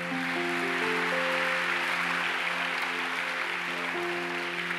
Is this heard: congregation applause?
yes